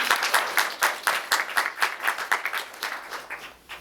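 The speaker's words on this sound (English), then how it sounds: "just wanted to give you guys a round of applause" An audience at a youth film festival panel claps after the screenings, with steady, distinctly rhythmic clapping that stays fairly close and even before tapering off toward the end.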